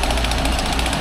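Loud, steady drone of a Cermaq 5Z42 concrete pump engine running on a construction site during a foundation slab pour, a dense rumbling chug with no voices.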